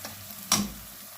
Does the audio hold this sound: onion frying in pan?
yes